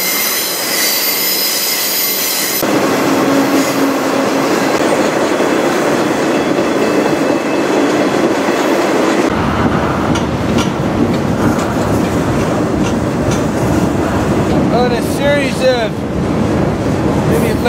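A freight train rolls along the tracks between Lincoln and Chicago, heard close up from aboard a car, with steady rumbling, clanking wheels and a shrill rising wheel squeal that swells and sways throughout, loud and continuous.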